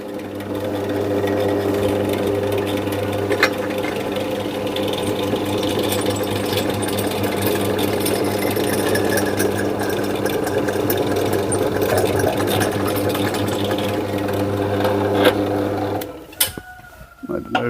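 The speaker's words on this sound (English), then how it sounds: "Just letting the drill do the work" A steady, continuous mechanical whir of a power drill boring through metal for a long stretch, then cutting off near the end with a few clunks.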